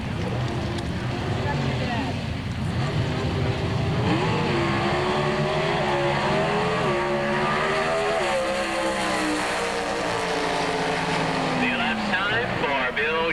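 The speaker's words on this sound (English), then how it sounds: "Bill Shorts, the Chevrolet contingent in the right-hand side." Chevrolet Pro Stock drag racing cars at the 1986 NHRA Spring Nationals roar down the strip, loud sustained engine howl with rising and falling pitch, under continuous announcer commentary.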